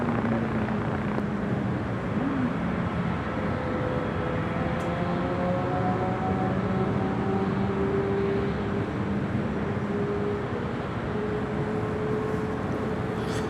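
A large airliner, a 777 wide-body, on final approach to runway 24 right at LAX, heard as a steady, loud engine roar with rising and falling tones that sustains throughout, with no voices.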